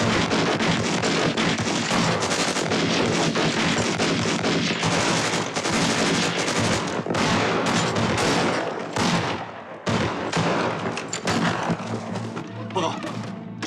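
Type 38 rifle shots in a wartime battle scene, sustained volleys of sharp cracks and thuds layered over dramatic background noise, loud and dense throughout.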